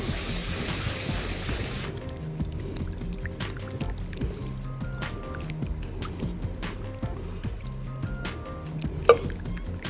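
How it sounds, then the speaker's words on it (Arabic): Broth poured into a pan of artichokes with flour, a brief rushing pour at the start, then quiet bubbling, dripping and small clinks close by. "نزلنا المرقه"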